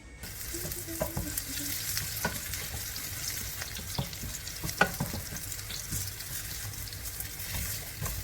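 Pork spare ribs frying in a pan for adobo, a close continuous sizzle with scraping and clinking as they are stirred, plus a sharper knock near the middle, with no talking.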